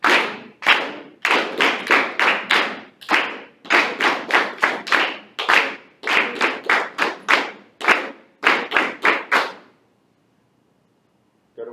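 An eighth-grade class claps out a rhythm counting exercise: steady, sharp group claps in repeating patterns with occasional short gaps, ending in a few seconds of silence.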